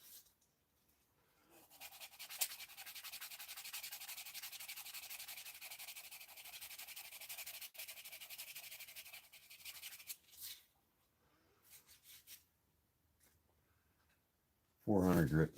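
A hand sands an edge with 400 grit sandpaper, giving a soft, steady rubbing hiss for several seconds, then a few short strokes, faint and close, followed by a brief burst of speech.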